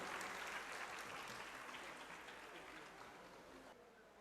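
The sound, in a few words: audience applause welcoming a guest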